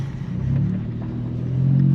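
VW Up GTI with a dual-exit straight-pipe exhaust cruising on the road, a steady low engine drone with a deep rumble that grows slightly louder toward the end, heard from inside the car with no talking.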